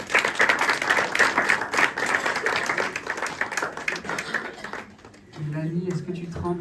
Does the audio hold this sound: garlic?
no